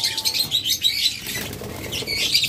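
Pairs of yellow finches flap their wings in a bird seller's cage. The wingbeats come close and loud in repeated fluttering bursts, with a few faint chirps mixed in and no talking.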